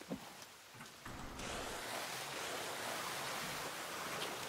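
Steady rain hisses through a video game forest, a dense broadband wash that swells in after a quieter start and then holds even and fairly loud.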